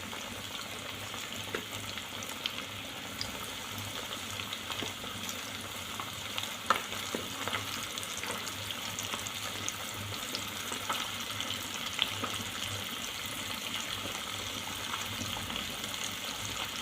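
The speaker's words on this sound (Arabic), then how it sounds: "ضروري ما تكون الزيت سخونه من قبل، عاد باش كنضيفوا فيه الدجاج ديالنا" Chicken pieces frying in hot oil, a steady dense sizzle with faint crackles and pops throughout, close and alone with no talk.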